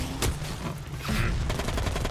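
Machine gun suppressing fire from a Maxim Tokarev light machine gun in the Heroes and Generals video game, short bursts of rapid shots with muffled booms, moderately loud, over about two seconds without speech.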